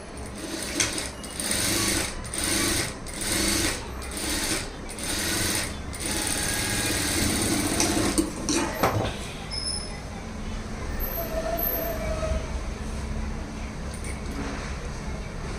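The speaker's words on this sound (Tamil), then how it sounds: "lining cloth right side திரும்பிட்டு lining cloth மேலே ஒரு தையல் போடலாம்" Sewing machine stitching lining cloth for Aari embroidery work, a fast steady mechanical whir with rhythmic bursts and brief pauses, close and fairly loud, with a voice speaking faintly underneath.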